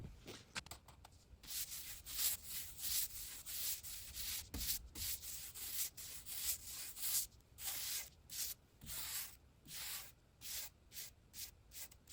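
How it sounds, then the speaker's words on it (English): A dried first coat of shellac on an oak coffee table is rubbed down by hand with fine 4/0 steel wool. Close, faint rhythmic scrubbing strokes repeat steadily, with brief pauses between passes. "I wait for it to dry, and then I'm going to sand it down."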